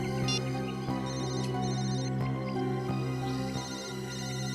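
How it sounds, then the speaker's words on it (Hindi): An electronic ringtone repeats over a steady droning hum, its tones chiming in regular bursts without any talking. "फोन फिर से बज रहा है सर।"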